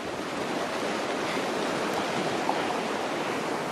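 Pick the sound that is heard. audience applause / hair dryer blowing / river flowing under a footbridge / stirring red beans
river flowing under a footbridge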